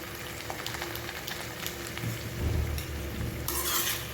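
Chopped coriander is stirred into dry potato sabzi in a pan, with a close, dense scraping and sizzling texture that swells with the strokes and grows louder toward the end, without speech.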